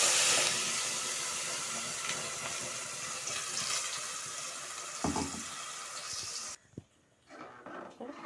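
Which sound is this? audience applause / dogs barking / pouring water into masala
pouring water into masala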